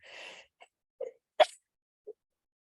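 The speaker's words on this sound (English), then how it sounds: "and I'm going to sneeze" A single sharp human sneeze, then a few faint breathy sounds and small throat noises, close and otherwise quiet.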